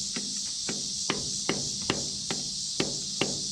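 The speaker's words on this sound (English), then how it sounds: "I use the non-marring hammer when I'm breaking things free on this." Non-marring plastic hammer striking parts to break them free during a teardown of a 1936 International T20 crawler tractor, about eight sharp, evenly spaced taps against a steady background hiss.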